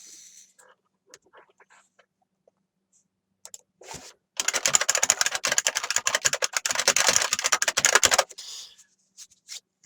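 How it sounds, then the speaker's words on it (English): Loud, rapid computer keyboard typing in a dense burst of clicks lasting several seconds, preceded and followed by sparse, quieter key taps. "Sorry about the loud keyboard."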